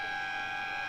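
Quarter-time siren at a suburban Australian football ground during a Boronia versus Waverley Blues match, a steady sustained tone held loudly for the whole second with no break.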